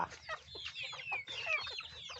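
On a free-range egg farm, Rhode Island Red chickens and jungle fowl cluck in a busy run of short, overlapping calls with a few higher squawks, fairly quiet and somewhat distant, with no voices.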